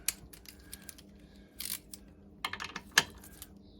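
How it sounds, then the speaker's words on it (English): A ratchet turning a socket on a 1963 Lambretta Series 3 Li 125 scooter gives a few scattered, sharp metallic clicks in short bursts over a quiet background, with no talking. "get a ratchet on there."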